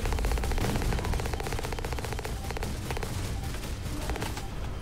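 Gunfire from mechs in the video game Hawken: continuous rapid automatic fire with steady pulsing shots over a constant loud mechanical din, close and dense throughout.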